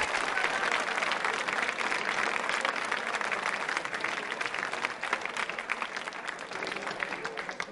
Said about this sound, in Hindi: मनीष जी के लिए तालियां दोनों से बजाइए।